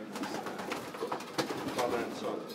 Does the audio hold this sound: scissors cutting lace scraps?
no